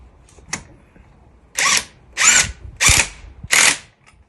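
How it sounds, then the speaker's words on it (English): An impact wrench reinstalls spark plugs on a Mercedes-Benz W123, firing in four loud, sharp bursts of hammering whir, each about half a second long, after a few faint clicks. "Now I'm using the impact wrench to"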